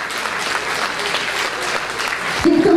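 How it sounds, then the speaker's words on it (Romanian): A concert audience gives sustained, dense applause for mothers honored at an anniversary dance concert, steady and loud throughout, with a voice starting to speak over it near the end. "Și vreau să le aplaudați."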